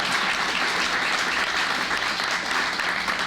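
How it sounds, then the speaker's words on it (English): Audience applause at a Cal State Los Angeles–linked speaking event for a political science professor: steady, dense clapping from a large crowd, loud and continuous throughout with no talk over it. "Give him a big round of applause."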